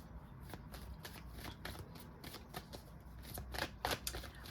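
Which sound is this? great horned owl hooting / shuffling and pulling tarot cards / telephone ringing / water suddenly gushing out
shuffling and pulling tarot cards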